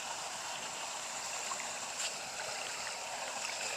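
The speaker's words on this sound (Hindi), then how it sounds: "कितना तेज पानी ज़मीन से निकल रहा है" Water gushing strongly out of the ground at a hidden forest spot, a steady broadband rush that stays even throughout, fairly distant and moderately quiet with no voices.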